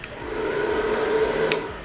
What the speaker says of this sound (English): with the trusty blow dryer, the next thing to do now is to blow this out